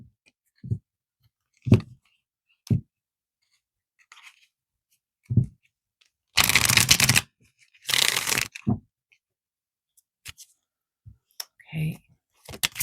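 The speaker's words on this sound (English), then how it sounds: "So I'm just going to give my deck a shuffle." Tarot or oracle cards are shuffled in two dense bursts of riffling, surrounded by scattered soft taps and clicks in an otherwise quiet room.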